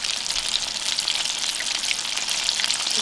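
Homemade Chick-fil-A style chicken nuggets frying in oil, a constant bright crackling sizzle with fine popping bubbles, close and steady throughout with no voices.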